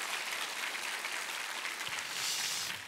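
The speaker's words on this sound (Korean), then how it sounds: "우리를 통해 역사하신 하나님께 한번 감사의 박수 드리겠습니다." A church congregation at a Christmas service applauds in thanks, a dense, even wash of many hands clapping that holds steady throughout.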